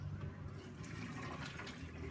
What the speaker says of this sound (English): I'm going to fill it up close to the top